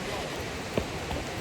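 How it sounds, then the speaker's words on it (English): Waterfall at Anse de Cascade on Reunion Island, set in woods by the sea: a constant broadband rush of falling water, steady and enveloping, with a brief small knock in the middle and no speech. "I just realized how much noise like waterfalls can make."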